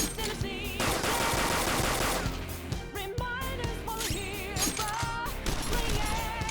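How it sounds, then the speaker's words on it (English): Rapid gunfire rattles in a Persona 5 Royal battle, dense bursts of shots over game music, loud and continuous with brief gaps, no talking. "and then we'll just use our gun"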